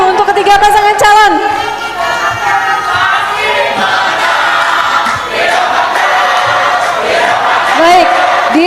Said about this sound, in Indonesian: tepuk tangan yang meriah untuk ketiga pasangan calon